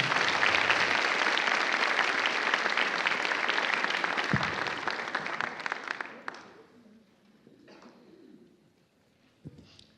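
Banquet audience applause fills the room at full strength for about six seconds, then fades away into near quiet with a few faint stray sounds.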